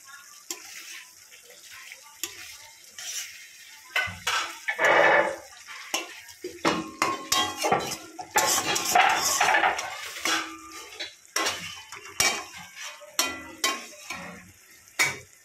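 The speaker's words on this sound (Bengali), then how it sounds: "তো ঢাকনাটা এখন তুলবো, এটা তুলে দেখি কতদূর হলো।" Metal lid lifted off a pot of fish simmering in its own released oil, with close clinks, scrapes and clattering taps of cookware coming in uneven bursts, plus a faint sizzle underneath.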